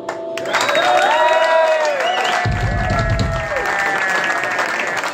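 Live club concert crowd applauding and cheering a blues band, loud sustained clapping with whoops, and a brief burst of low rumble partway through.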